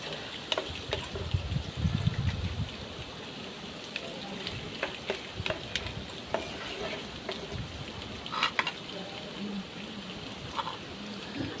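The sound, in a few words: stirring potatoes with garlic in a frying pan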